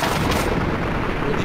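A Minecraft explosion, plain and ordinary rather than grand, bursts as a dense, loud roar of broadband noise that holds through the whole short moment with no talking.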